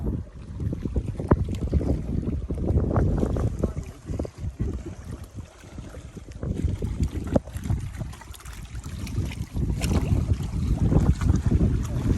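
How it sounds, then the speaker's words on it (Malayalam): Cold wind buffets the microphone during a boat trip through dense forest, a rough, uneven low roar that swells and dips throughout, with faint voices now and then. "നല്ല തണുത്ത കാറ്റ് അടിക്കുന്നുണ്ട്"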